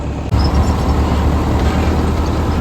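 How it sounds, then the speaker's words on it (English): A skid steer's heavy diesel engine starts on a farm, rumbling loudly and steadily at close range after a brief catch at the start, a low drone that keeps running. "Skid steer starting now."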